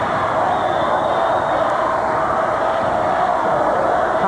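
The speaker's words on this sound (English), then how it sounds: "Hazleton fans making some noise here at the CYC in Scranton" Hazleton fans roar in a crowded arena at the CYC in downtown Scranton during a 1998 high school basketball district championship. The cheering is a dense, constant wash of crowd noise that never lets up.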